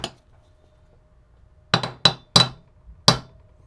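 A hammer taps U-joint caps into a Jeep Wrangler TJ front driveshaft yoke: one faint tap, a pause, then four sharp metallic strikes in quick uneven succession, close and clear with no talking.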